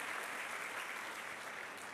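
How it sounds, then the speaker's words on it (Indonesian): A church congregation at an Ascension service claps, a soft, even wash of many hands that carries on without a break and sounds distant and quiet. "Berikan tepuk tangan kita untuk Tuhan kita."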